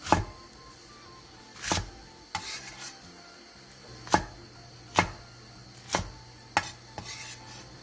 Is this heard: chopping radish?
yes